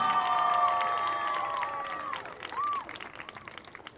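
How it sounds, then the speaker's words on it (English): A crowd applauds and cheers in the stands at a high school football game, with sustained clapping and whistling that swells and then tapers off. "Let's hear it for Kaylee and Caitlin Isom."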